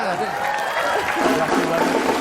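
An audience claps and cheers for a professional yo-yo player at a live show, a steady, fairly loud wash of applause throughout.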